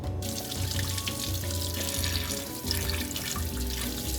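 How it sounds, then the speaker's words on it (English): Tap water running steadily into a sink while peppers are rinsed and their seeds squeezed out, a close continuous splashing stream with small shifts as hands move under the flow. "I'm just gonna run it under water and then just kind of like squeeze out the seeds"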